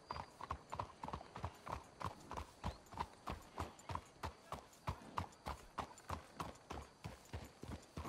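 Horse hooves clip-clop in a steady, even rhythm in the video game Red Dead Redemption 2, close and fairly quiet, with no talking over them.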